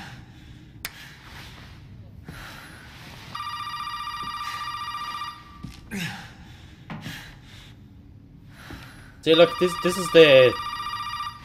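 A telephone rings in an upstairs room before the attic in the Resident Evil 7 horror game trailer: two bursts of electronic bell ringing, the second louder, with a voice speaking briefly between them.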